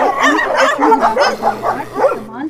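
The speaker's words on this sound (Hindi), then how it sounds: "यहाँ आपको एक शिकारी कुत्ता दिखाया जा रहा है जो कि ज्यादातर पाया जाता है।" Hunting dog barking and yipping at close range, a rapid run of loud, high-pitched barks with whiny tones, continuous across the clip with no talk.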